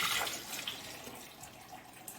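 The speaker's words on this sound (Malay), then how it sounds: "Kita masukkan air." Water pours into a blender for Thai dessert batter made with coconut milk, tapioca and rice flour, a soft close splashing and trickling fill that tapers off after a couple of seconds, with no speech.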